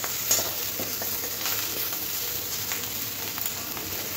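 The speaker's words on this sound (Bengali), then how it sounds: "এবার সব কিছু ভালো করে মিশিয়ে নেব" Onions stirred in a pan with turmeric and chilli powder give a close, continuous sizzle, with soft scraping from the spoon mixing everything together.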